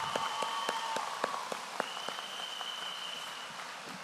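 Applause at a graduation ceremony, a crowd clapping at moderate distance with scattered sharp claps, while a faint whistle or tone lingers above it.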